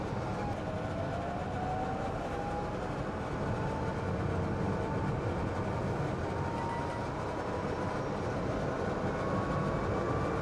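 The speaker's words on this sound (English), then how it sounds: "If I switch the fan on, it's quite noisy." A 2022 Citroen Ami Electric's ventilation fan gives a steady, loud broadband roar with a low rumble throughout, inside the moving car.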